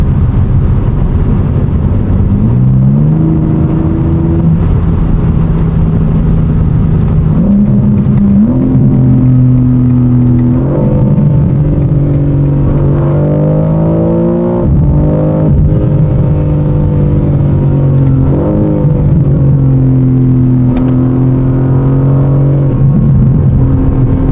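An updated BMW M3/M4 sports car driving with a loud, close engine note that climbs through rising revs, drops at each gear change and builds again in repeated pulls, alone with no talk.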